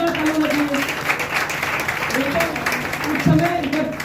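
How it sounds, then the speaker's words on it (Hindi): An audience at an Indian business event breaks into loud, sustained applause that fills the whole stretch, a steady wash of clapping with a voice carrying faintly through it. "जोरदार ताली होनी चाहिए।"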